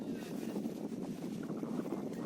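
Wind blows steadily across a beach under a sky clouding over, a constant low rushing roar buffeting the microphone, with no voices.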